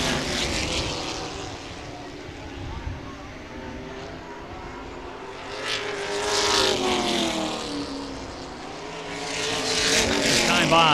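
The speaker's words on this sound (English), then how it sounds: "Speedway Late Models champion Derek Hoffman holding that position pat as they come down to complete another lap" Late model race cars circle Baer Field Speedway in a feature event, a steady roar of engines that swells as cars pass near and fades away, with an announcer talking throughout.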